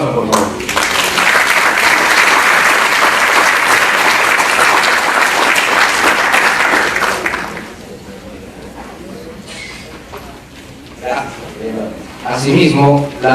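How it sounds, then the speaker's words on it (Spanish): Loud, dense applause from an audience at a Lima Superior Court of Justice anniversary ceremony lasts about seven seconds and then stops abruptly. A quieter stretch with scattered knocks and a voice follows. "Fuertes aplausos, por favor."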